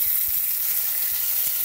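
Lemon-marinated salmon fries in a slightly too-small pan, giving a steady, close, hissing sizzle with faint pops and no talking.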